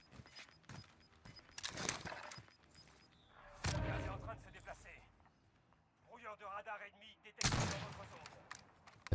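Gunshots in a shooter video game, sharp bursts of fire and rapid volleys breaking through steady talking, with a few loud cracks standing out.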